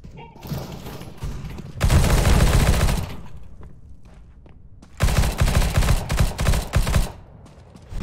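PP-Bizon submachine gun in Counter-Strike: Global Offensive, two loud sustained bursts of rapid automatic fire about a second and two seconds long, separated by quieter game ambience.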